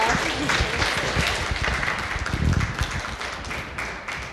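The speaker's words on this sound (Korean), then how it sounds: "먼저 큰 박수로 모실게요." An audience at a book talk claps in steady, dense applause for several seconds, swelling briefly in the middle before tapering slightly.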